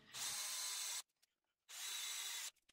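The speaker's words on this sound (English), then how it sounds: "I started drilling my holes with a small bit" Two sustained bursts of a magnetic drill cutting holes in steel with a small bit, each about a second long, harsh and loud up close, separated by a short silence.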